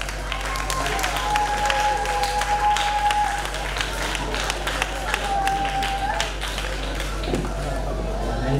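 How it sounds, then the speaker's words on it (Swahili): An audience at a church choir festival applauds as the chairman comes forward, with steady clapping from a crowd that sounds moderately distant. A long, faint tonal hum runs underneath. "Makofi anapokuja mwenyekiti mbele."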